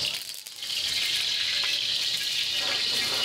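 Hot oil hissing on a little leftover water in a wok on a stove, a steady broadband sizzle that runs nearly continuously and close up, with no voices.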